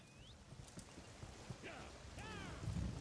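Horse hooves clop softly across the ground in Elder Scrolls Online, faint and irregular, mixed with brief whistling and chirping game sounds and a low rumble toward the end.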